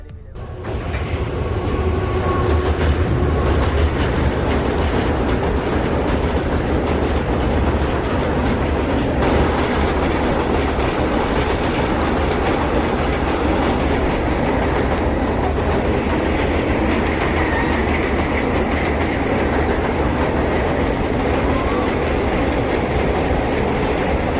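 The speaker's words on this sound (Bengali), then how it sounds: "আমাদের ব্রিজের ওপর দিয়ে এখন একটা ট্রেন যাবে" A train rolls across a bridge, a loud, continuous roar and rumble with rhythmic clatter of wheels that holds steady throughout.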